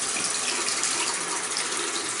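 A tap runs steadily, splashing water over a Razor Rock Monster shaving brush to wet it. The flow holds an even, close rushing hiss throughout.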